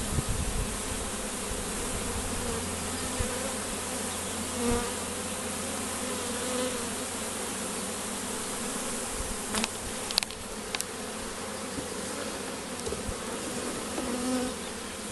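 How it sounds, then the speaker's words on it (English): Dense, steady buzzing of many bees filling the air close by, with a few brief louder passes near the end. "the bees are still quite thick all the way down."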